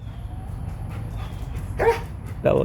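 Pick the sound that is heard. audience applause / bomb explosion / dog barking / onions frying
dog barking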